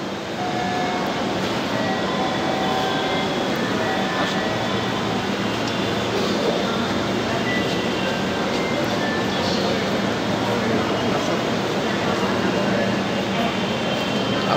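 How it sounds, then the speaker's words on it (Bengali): A Dhaka metro rail train arrives at Agargaon station amid a crowded platform, a loud, steady rumble and roar filling the space with no clear breaks, mixed with murmuring crowd noise. "আপনাকে আমরা দেখতে পাচ্ছি ট্রেন চলে এসেছে"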